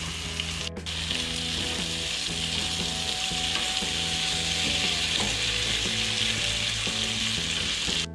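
Diced potato and carrot frying in a pan with turmeric-tinted fat, a loud steady sizzle running throughout with occasional stirring scrapes, close up and without speech.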